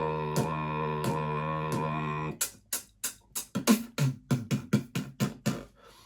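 A voice hums a steady tone, then switches to sharp, rhythmic mouth-made clicks imitating a drum rim shot, with breathy percussive hits in a quick pattern.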